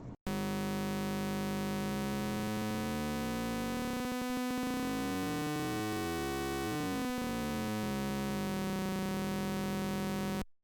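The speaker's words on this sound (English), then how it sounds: "use this to generate a ramp waveform that's basically a sawtooth" A Pure Data sawtooth ramp waveform driven by a metro plays as a buzzy electronic tone full of harmonics, its pitch sweeping up and down as the rate changes, steady and alone.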